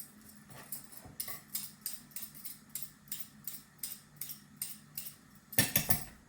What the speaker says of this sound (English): So I'm peeling these little guys with a peeler I really don't like.